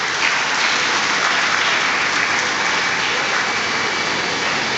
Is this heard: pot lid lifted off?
no